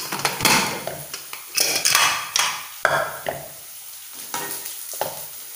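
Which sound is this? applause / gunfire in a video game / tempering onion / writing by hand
tempering onion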